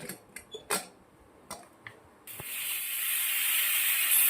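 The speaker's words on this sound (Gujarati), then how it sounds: "કુકર બંધ કરી દેશું અને બે સીટી આવી જશું" A pressure cooker of sprouted moong and moth dal khichdi on the stove gives a few light clicks, then breaks into a rising, continuous hiss of escaping steam that grows louder and holds to the end.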